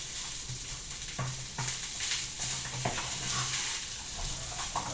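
Leftover cold rice stir-fried with sausage in a pan, a continuous low sizzle with repeated scraping and clinking of a spatula against the pan at an uneven pace.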